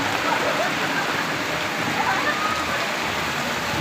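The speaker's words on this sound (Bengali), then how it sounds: "আজকে বৃষ্টি হচ্ছে" Steady rain pours outdoors in Shahid Hadis Park in Khulna city, a dense, even hiss of drops that fills the whole scene without pause, with a faint voice blending into the wash.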